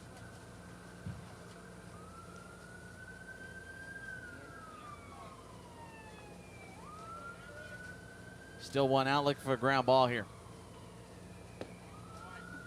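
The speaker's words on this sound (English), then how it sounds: "And there's your daily dose of siren." A distant siren wails in slow rising and falling sweeps under a baseball commentator's talk during a playoff game, with a brief burst of louder crowd or voice noise midway.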